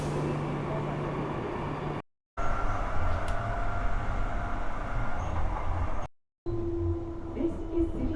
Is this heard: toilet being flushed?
no